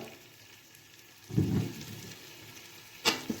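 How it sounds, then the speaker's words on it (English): Minced beef and vegetables being stirred in a hot pan for empanada filling: a short scraping sizzle, then quiet, then a second brief scrape, close and fairly soft. "So I'm going to stir them all together"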